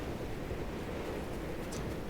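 Steady dense roar of wind and rain at night in the video game Pacific Drive, constant and broadband with no pauses, no voices.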